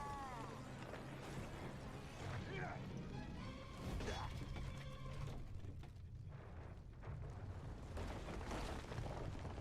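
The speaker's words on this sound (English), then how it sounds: "Oh, you can just generate fire, huh?" Fire burst generated by the boss El Jefe in Sly Cooper: Thieves in Time, a loud roaring, crackling whoosh with booming crash-like hits over dense game music and effects, with a character voice speaking at points.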